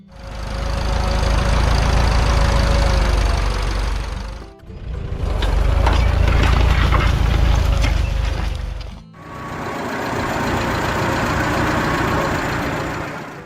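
A David Brown Cropmaster tractor engine runs steadily in three loud, continuous stretches with brief dips between them, a deep low rumble with mechanical clatter and no voices.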